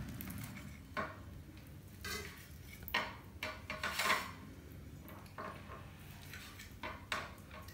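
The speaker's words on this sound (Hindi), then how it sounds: "इनको हम लोग काट लेते हैं, अपनी पसंद की शेप में काट लेते हैं" A knife cuts cooled, steamed lauki muthiya (bottle gourd dumplings) into pieces, making scattered soft taps and a few sharper clinks against the board and plate at close range.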